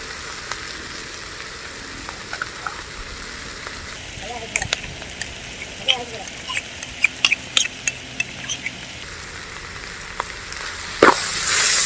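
Ginger and garlic fry in a pan for a village-style egg masala gravy, giving a soft, steady sizzle under scattered clinks and scrapes of stirring, with a louder burst of frying near the end.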